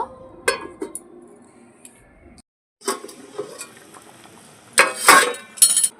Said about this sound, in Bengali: সামান্য একটু নুন দেব এবার ঢাকাটা দিয়ে দেব